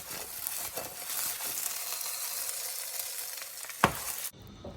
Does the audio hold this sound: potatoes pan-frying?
yes